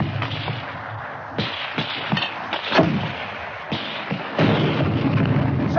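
Mortar fire in a field battle produces a series of heavy booming blasts and sharp cracks spread irregularly over several seconds. The blasts are loud and reverberant, with low rumbling tails between hits and no voices.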